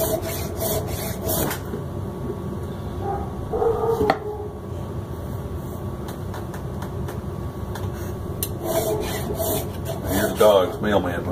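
Dogs bark in short bursts indoors, moderately loud over a steady background hum, with brief rubbing and scraping noises in between.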